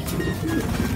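A male pigeon gives a low, throaty coo close by, a single brief rolling call lasting about a second with no voices.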